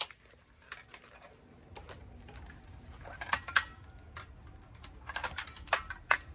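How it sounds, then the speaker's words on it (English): Dull metal snips cut wires off scrap metal being sorted from a storage unit, giving a run of sharp, irregular clicks and snaps close by, with no talking. "Cut these wires off."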